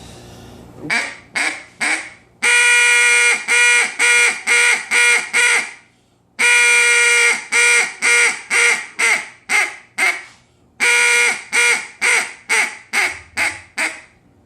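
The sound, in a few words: duck call hail call, hand open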